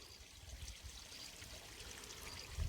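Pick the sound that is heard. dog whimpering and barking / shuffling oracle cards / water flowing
water flowing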